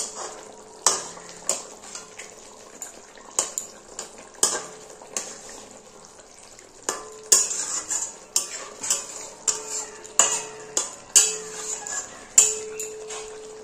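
Raw rohu fish pieces turned over in a frying pan, with a series of sharp spatula clinks and scrapes against the metal recurring every second or so over a faint, steady sizzle.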